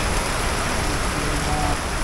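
Heavy rain pours down in a steady, dense roar, with floodwater risen all around. It continues unbroken and loud throughout.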